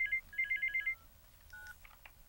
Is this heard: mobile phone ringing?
yes